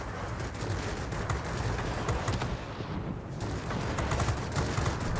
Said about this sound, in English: And then that 30mm cannon hits.